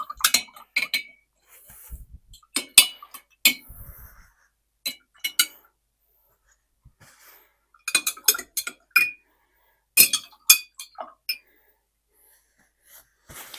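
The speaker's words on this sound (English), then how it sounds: "Let's give it a stir." A utensil clinks against a glass of paint water in short, bright bursts of stirring, separated by silent pauses, close and clear without speech.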